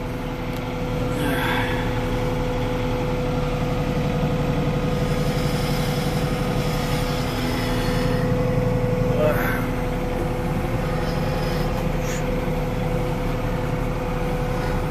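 A TYM T394 tractor engine straining under a very heavy lift, a steady close low-pitched drone with harmonic hum that holds throughout, rising slightly in loudness partway through.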